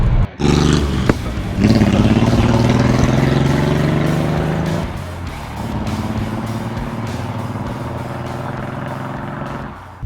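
A Datsun 280Z barn find, off the road for 18 years, drives along with its engine running loud and steady, a continuous close rumbling roar that dips briefly and then carries on.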